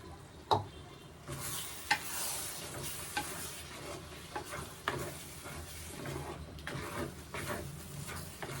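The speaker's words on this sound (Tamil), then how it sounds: "அதுக்கு கொஞ்சம் தேங்காய் பேஸ்ட் அரைச்சி ஊற்றிக்கிறேன் ஃப்ரெண்ட்ஸ்." Ground coconut paste goes into a vegetable curry with brinjal, giving a soft, steady sizzle and stirring noise with a few sharp utensil clicks near the start; no one speaks.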